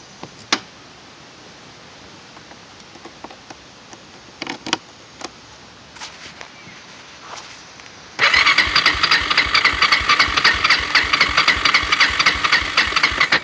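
Kawasaki Lakota ATV after battery reinstallation: scattered faint clicks and small knocks, then the engine cranks and fires into a loud, fast, evenly pulsing idle that runs on to the end.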